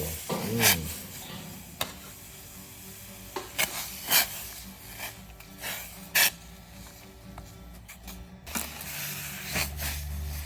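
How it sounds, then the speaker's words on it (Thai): A spoon stirs bamboo shoots in salted yanang leaf broth in a pot over the heat, making repeated scraping and knocking strokes at an uneven pace over a soft steady simmer, close up and with no talking. "คนไปสักพักนึงครับผม"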